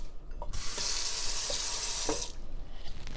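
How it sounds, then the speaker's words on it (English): Tap water runs steadily over a chopping board being rinsed in a sink, a bright continuous splashing stream that starts abruptly, holds for about two seconds with a few knocks of the board, then cuts off. "let's rinse this"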